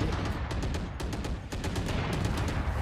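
Rapid gunfire in the tactical shooter video game Valorant, a dense run of sharp repeated shots over a constant roar of game sound, loud and unbroken by talk.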